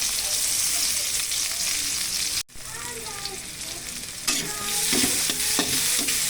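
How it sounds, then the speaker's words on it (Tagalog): Garlic and onion sautéing in a pan with leftover fish-frying oil, a close steady sizzle with stirring scrapes, briefly cut off midway then resuming louder. "Mag-agisin na tayo ng bawang sibuyas."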